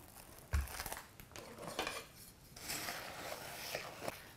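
Soft crunching and scraping as crushed pretzels, sugar and melted butter are stirred together in a bowl, fairly quiet and close, with an irregular rhythm and a few sharper knocks.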